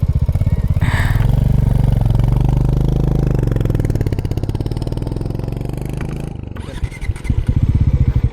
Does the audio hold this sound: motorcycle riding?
yes